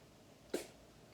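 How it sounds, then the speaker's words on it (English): A single short, soft sneeze bursts out once against a quiet indoor background, brief and fairly faint. "He's sneezing."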